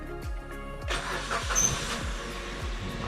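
A Suzuki Karimun Wagon R engine cranks in several repeated starter pulses before catching and running at a steady idle, heard close by.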